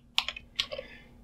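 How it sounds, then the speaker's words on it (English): Quick bursts of clicking keystrokes on a computer keyboard while an nmap TCP scan command is typed, a few close, crisp taps in two short clusters with no talk. "So let me just type here nmap -st"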